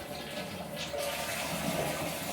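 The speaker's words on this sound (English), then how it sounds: "I'm going to do a foot flush" A 2015 Delta Turner toilet flushing with its lid closed, a steady rush of water swirling and draining at close range without pause, with no voices.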